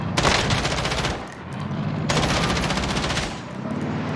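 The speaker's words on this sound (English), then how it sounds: "He started to shoot him through the ground." Rapid automatic gunfire from Call of Duty: Warzone, with two long sustained bursts of close, loud shots separated by a short pause, set over a low in-game background rumble.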